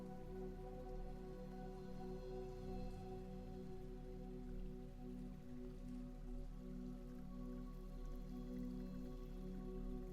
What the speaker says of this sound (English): The rain continues, touching the lake without hesitation.